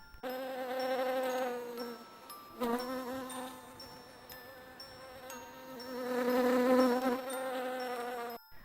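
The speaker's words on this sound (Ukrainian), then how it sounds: "Ми почули, як бджілки між собою гаманять." Bees buzz close by in a droning hum that swells, dips and returns as they move about, steady and alone with no talking.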